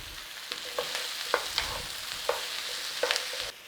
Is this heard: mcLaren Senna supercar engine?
no